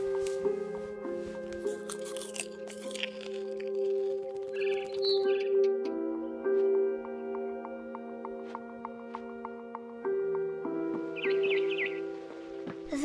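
In the video game What Remains of Edith Finch, a barn swallow chirps outside a window: short, bright bursts of twittering over sustained, soft musical tones, with a final flurry near the end.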